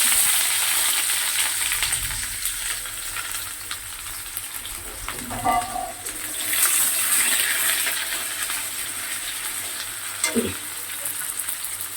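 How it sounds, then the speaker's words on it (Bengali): Chopped onion frying in a tempering of bay leaf, dried red chili and crushed whole cardamom, a loud continuous sizzle close by with occasional clinks and stirring scrapes of a spoon. "পেঁয়াজ কুচি দিয়ে দিচ্ছি।"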